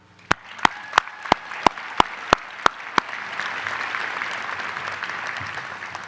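Families applaud at a dental school commencement ceremony, beginning with a run of sharp evenly spaced claps that swell into a broad wash of crowd applause in a large hall.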